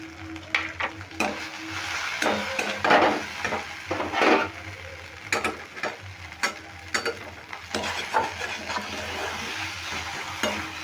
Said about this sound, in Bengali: এটা সমস্ত উপকরণগুলো আমি খুব ভালো করে মিশিয়ে একটু নেড়ে কষিয়ে নিচ্ছি